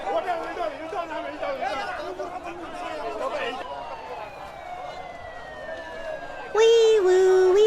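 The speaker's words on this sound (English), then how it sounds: "Wee woo, wee woo. Oh my god, their ambulances are jeeps?" A video game ambulance shaped like a jeep sounds its siren, a wailing tone that rises out of busy game noise and chatter, then turns loud and close at the end.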